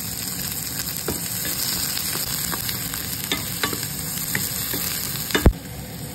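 Onion crackling and sizzling in reused frying oil, a continuous close hiss dotted with pops and a louder clack near the end, no speech.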